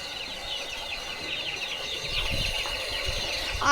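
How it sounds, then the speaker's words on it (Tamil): A brooding hen clucks softly and repeatedly close by, with high, chirpy peeps running steadily underneath. "இங்கே பார்த்தீங்கன்னா ஒரு கோழி அடப்படுத்துருக்கு"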